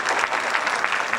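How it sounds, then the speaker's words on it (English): Steady, dense audience applause fills a school band concert hall, a full crowd clapping continuously at an even level throughout. "Let's give him a round of applause."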